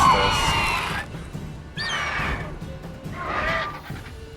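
A horse in The Witcher 3: Wild Hunt video game, attacked by a monster, whinnies in shrill, wavering bursts, three calls separated by short pauses, loud and close over a low rumbling background.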